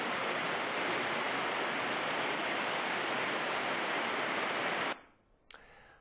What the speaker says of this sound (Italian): Sentite anche come la pioggia battente continua incessantemente a ricoprire il territorio già di per sé devastato dall'acqua alta